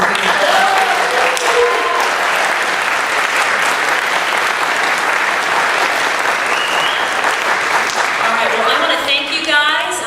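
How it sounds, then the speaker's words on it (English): A school leadership assembly gives a loud, sustained round of applause that fills the room, with scattered voices rising over it near the end. "Let's give them a round of applause."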